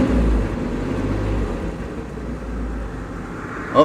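A 1964 Chevy engine idles steadily after a cold start with the choke off, a loud low rumble held at raised revs throughout, ending with a brief sharper blip.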